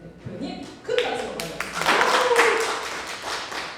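A lecture audience greets an invited news-outlet chief with clapping that starts sparse, then swells into a moderate round of applause, while a voice talks over it near the start.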